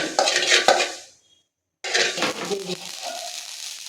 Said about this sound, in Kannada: ಈಗ ಚಟಪಟ ಅಂತ ಇದೆ